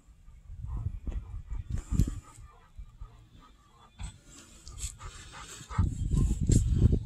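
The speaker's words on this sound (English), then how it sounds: "So Darby saw another dog, which made him really, really excited" An excited dog pants rapidly and heavily at close range in bursts, with short pauses and some scuffling and movement between them.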